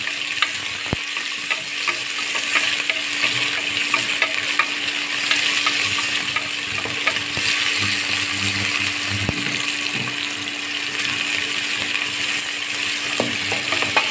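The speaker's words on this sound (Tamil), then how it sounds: "வெங்காயம் வெங்காயத்தை ஒரு வதக்க வதக்கிடலாம்" Onions sautéing in a pan after tempering spices have crackled, producing a loud, constant close sizzle with occasional clinks and scrapes of a stirring spoon, no speech.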